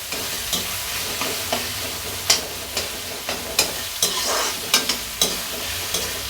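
Onion with ginger garlic paste stir-fried in a pan for a banana flower curry, a steady sizzle broken by regular scraping spatula strokes about every half second, close and moderately loud with no talking.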